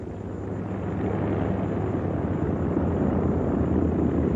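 Engines of a North American B-25 Mitchell bomber, one of the last 1000H-series aircraft built at the California plant, give a loud, steady propeller drone that swells slightly and then holds without talk.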